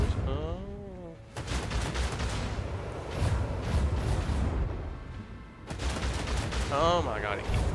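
Sustained gunfire from attacking bombers in the video game Warhammer 40,000: Rogue Trader, a dense roar of repeated shots that keeps going for several seconds, with a brief lull before it returns.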